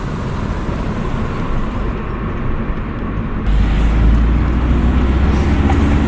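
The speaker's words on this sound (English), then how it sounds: "we're gonna go for a little bit of a joyful ride and hear the intake a bit better" A 2019 VW Golf R turbo engine breathing through an MST Performance intake on a drive, a steady loud rumble that swells as the throttle opens midway through the acceleration.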